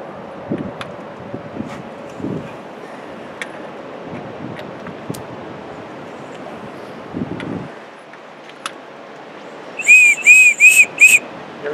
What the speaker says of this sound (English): we just turn it until we hear the whistle